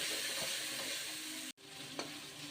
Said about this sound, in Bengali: এবার সুন্দর করে কষাই নেব